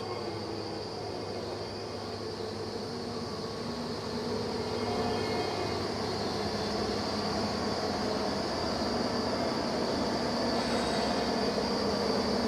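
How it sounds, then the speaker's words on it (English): A combine harvester's engine drones steadily and loudly as it drives down a road, a continuous low rumble with mechanical whine that grows slightly stronger as it approaches. "the sound of the combine coming down the road"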